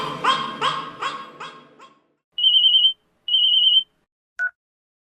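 Dog barks several times in quick succession, then a telephone rings in two steady electronic bursts, followed by a short beep.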